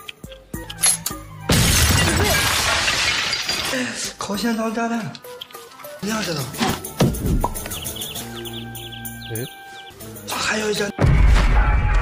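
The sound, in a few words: explosion shattering a glass door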